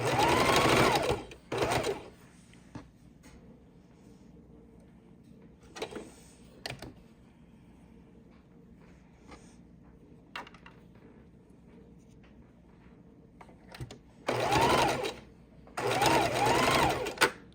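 A sewing machine stitching a fabric scrap garland runs in short, loud bursts at the start and end of the span, separated by quiet stretches with faint handling clicks.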